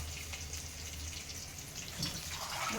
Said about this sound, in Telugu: దీంతో నీళ్ళు పోస్తాం